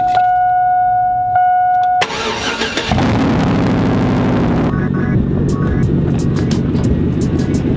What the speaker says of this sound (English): Let's hop in the truck, but first, let's get a cold start.